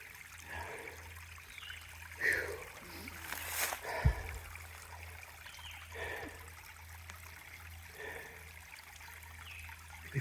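Water flowing and trickling at a trail water source on the Appalachian Trail, a soft continuous gurgle with a few louder splashy surges, close by and fairly quiet.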